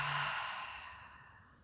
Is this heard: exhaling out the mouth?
yes